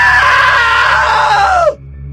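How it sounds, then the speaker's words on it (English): A long, loud, high-pitched scream from a character in the video game What Remains of Edith Finch, sustained and slightly falling in pitch before cutting off abruptly, with a low hum left underneath. "Now that was a great scream."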